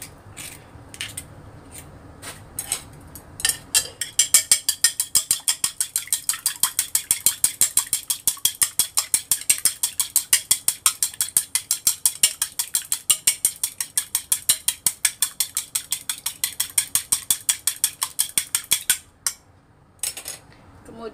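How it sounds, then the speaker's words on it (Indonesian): A single egg is beaten briskly with a utensil against a bowl, making a fast, regular train of loud clinking taps lasting about fifteen seconds, with a few scattered knocks before and after. "Kocok 1 buah telur ya."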